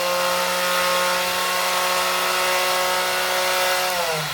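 A tapering tool shaping the end of an arrow shaft gives a steady loud motorized whine with a constant pitch that winds down at the end, close up and with no talking.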